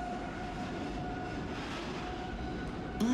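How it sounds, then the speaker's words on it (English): Automatic subway train rolling slowly along the track, a steady rumbling hum with faint wheel noise and a thin whine, loud and continuous throughout with a brief squeal near the end. "The train was going pretty slow"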